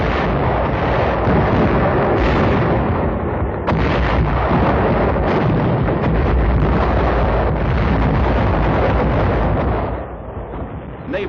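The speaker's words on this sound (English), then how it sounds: "Naval guns supplemented the artillery barrage." WWII artillery barrage with naval guns and rocket launchers shelling a Japanese settlement on Saipan in the Marianas, a dense, continuous roar of explosions and booming gunfire, loud and close, in archival documentary sound.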